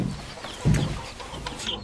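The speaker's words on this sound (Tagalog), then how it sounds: "nandito yung available chicks natin mga farmers" Japanese Shamo chicks cluck and peep close by in short, soft bursts, with one louder call partway through.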